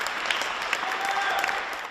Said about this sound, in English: There was applause from the staff who volunteered to move to work there.